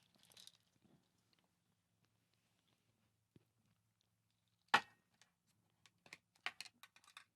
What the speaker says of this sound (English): we have some crunchy coconut peanuts